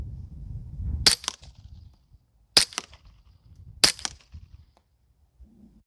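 Three sharp, evenly spaced reports from a Glock fitted with a long DeadAir Wolfman suppressor firing Freedom Munitions subsonic rounds, each crack followed by a quick mechanical clack, set outdoors with quiet pauses between shots.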